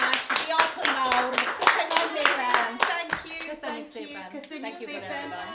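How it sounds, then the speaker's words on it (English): An audience applauds at a live event in the Wood Rooms in Salford, giving a dense, steady round of hand clapping that fades slightly toward the end, with voices mixed in. "One more time, round of applause, everybody."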